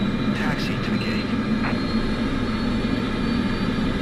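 Jet airliner engines in Microsoft Flight Simulator 2024 spool up while taxiing at Sendai, a steady loud turbine drone and hum running throughout, with a voice talking over it.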